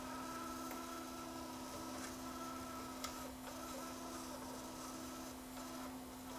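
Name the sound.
noisy bearing in a JVC KD-V300 cassette deck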